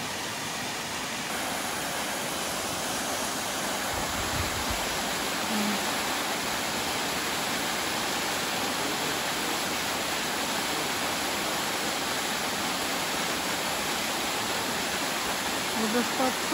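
Steady, dense roar of the Sopit waterfall in the Carpathian Mountains filling the whole scene without pause, loud and close, with a faint voice briefly under it.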